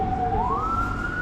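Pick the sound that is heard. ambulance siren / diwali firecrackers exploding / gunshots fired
ambulance siren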